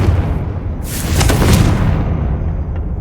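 An explosive Confringo spell blast in Hogwarts Legacy: a loud, heavy boom with a crackling burst in the middle and a rumbling tail that lingers for a few seconds.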